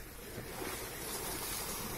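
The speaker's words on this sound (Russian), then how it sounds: "видеть такие волны." Ocean waves seen from a shoreline path, a steady broadband wash of surf mixed with wind buffeting on the microphone, continuous and fairly loud with no talking.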